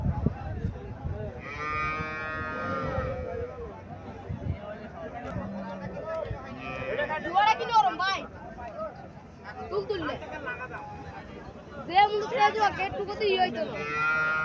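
Native cows and calves moo now and then at a livestock market in Mirshanni Bazar, Cumilla, some calls near and some further off, mixed with steady chatter and bargaining voices around them.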